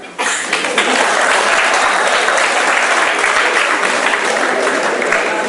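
An audience in a lecture hall claps loudly and continuously, a dense, even wash of applause from many hands that starts suddenly and carries on without pause.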